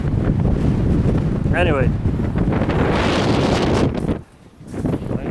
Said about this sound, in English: it is very windy and very cold